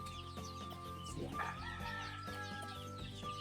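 Chicks and chickens in a scratch pen cluck and chirp softly, with quiet overlapping calls and one brief louder squawk in the middle against a low background hum.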